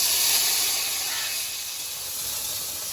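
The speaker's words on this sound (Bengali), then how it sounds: "ভেন্ডিটা ভেজে নেব" Okra sizzles loudly in hot oil, a bright crackling hiss that eases off a little after the first second and keeps going.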